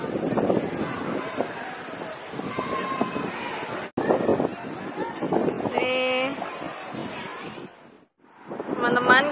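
Strong wind at a beach buffets the microphone in heavy, uneven gusts, with people talking throughout and a brief dropout partway.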